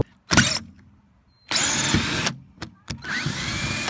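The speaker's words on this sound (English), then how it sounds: "Just been using my hole saw bit and auging them out right around." Battery drill spinning a hole saw bit to cut out rusted screws from plywood on an old camper, heard as two loud whirring bursts of about a second each, separated by short quiet gaps with faint clicks.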